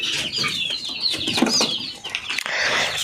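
Chickens cluck and call inside a coop among freshly hatched chicks, a busy close chorus of overlapping clucks and chirps with a few wing flaps and no speech.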